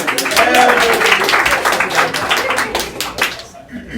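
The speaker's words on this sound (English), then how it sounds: "Big round of applause" A small live audience at a card-trick magic show claps for a volunteer, brisk close applause with distinct hand claps, tapering off and stopping abruptly near the end.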